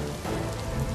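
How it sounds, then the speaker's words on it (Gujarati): Heavy monsoon rain pouring down in Junagadh's Maliya Hatina, a dense, steady roar of drops drumming on surfaces with no voices. "જૂનાગઢના માળિયાહાટીનામાં ધોધમાર વરસાદ વરસ્યો"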